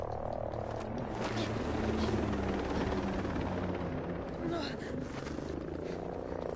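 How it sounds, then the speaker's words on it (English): An enemy helicopter flies overhead in the video game Ghost Recon Breakpoint, a dense, continuous roaring rotor wash that stays loud throughout, blended with other busy game noise. "Spotted an enemy chopper."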